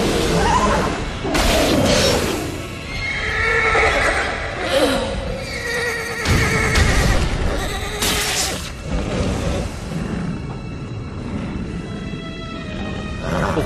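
Horses neighing and whinnying repeatedly during an anime fight scene, loud, close calls layered over clashing impacts and dramatic effects, with shrill cries recurring throughout.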